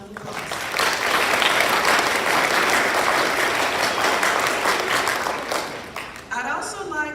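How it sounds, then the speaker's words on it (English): An audience in a high school assembly for Black History gives a round of applause: a full, even wash of clapping that swells, holds steadily, then thins out, with a voice briefly heard near the end. "Let's give them a round of applause."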